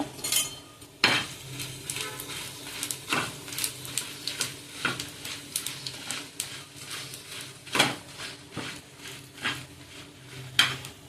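Coriander, fenugreek and cumin frying in a pan, a low sizzle under scattered clinks and scrapes of a spoon against the pan, with sharper knocks now and then.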